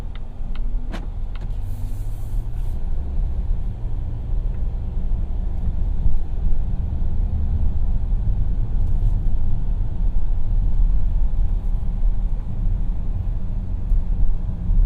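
A 2018 Volvo XC90 T6 AWD with a four-cylinder engine drives along, giving a steady low cabin rumble of engine and road noise with a few faint clicks early on.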